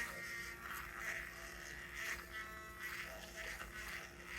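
A heavy homemade gyroscope robot walks with a steady electric buzzing whine from its motors, swelling in soft pulses roughly once a second. The sound is close and continuous, with no voices.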